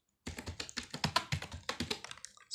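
Rapid typing on a computer keyboard, a dozen or so crisp key taps in quick irregular succession, close and clear with no talking.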